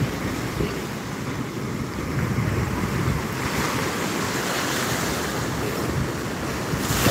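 Ocean surf washing steadily onto a beach in Banda Aceh, a continuous broadband roar with rolling swells and some wind noise, no voices.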